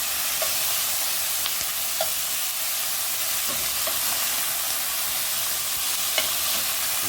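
Garlic sautéing in a pan gives a steady, even sizzle that runs throughout, with a few faint clicks from the pan now and then.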